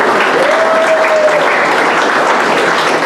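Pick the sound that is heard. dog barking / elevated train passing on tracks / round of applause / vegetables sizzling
round of applause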